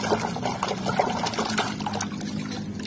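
Water pours and trickles steadily over muddy toys such as a Triceratops, a Thomas train, a Tayo bus and a police boat as they are rinsed, close up, with irregular splashy bursts and no talk.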